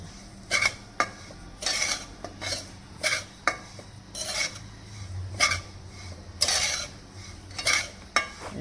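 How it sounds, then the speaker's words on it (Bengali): Ghee is stirred in a pan while making gulab jamun, a spoon scraping and clinking against the metal in a steady series of rhythmic strokes, close and fairly loud, with no talking. "ঘি দিয়ে দিচ্ছি ঘি দিয়ে একটু নাড়ি নাড়াচাড়া করে"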